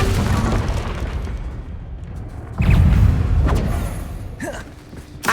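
A fiery Confringo blast spell goes off in the Hogwarts Legacy video game, a sudden loud booming burst rising over steady game ambience and then fading into softer crackles and magical whooshes.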